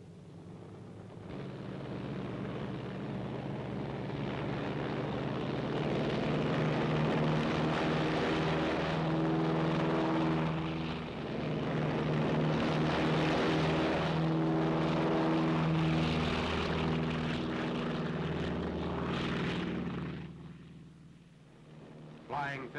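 World War II B-29 Superfortress bomber with its propeller engines droning in a steady, loud, continuous roar, heard alone without talk until it tapers near the end.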